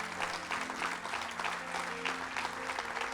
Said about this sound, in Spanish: Den un fuerte aplauso a Dios en esta mañana.